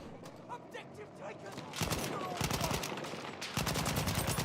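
Gunfire in an online shooter match during an Incursions tournament, with rapid bursts of shots crackling in quick succession under a steady bed of game noise, growing denser and louder toward the end.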